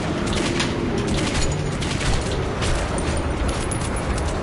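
Dense, continuous gunfire and booming blasts in Metro 2033 Redux, a loud, unbroken rattle of shots that fills the whole stretch without pause.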